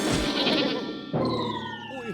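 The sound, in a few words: goat bleating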